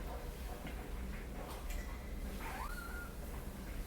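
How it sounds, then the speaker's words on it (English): A pet kitten gives a soft, brief meow late in the moment, with a short rising and falling cry over steady indoor room noise. "I'm gonna go spend time with my kitten now."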